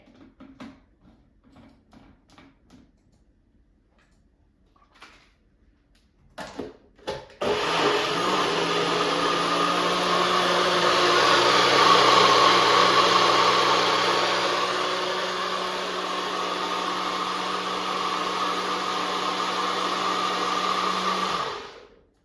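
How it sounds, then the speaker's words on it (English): After some quiet clicks and clatter, a blender starts up and whirs loudly and steadily for about fifteen seconds while blending salsa ingredients, its pitch settling slightly partway through. "once I add all the ingredients to the blender, I'm going to blend them together"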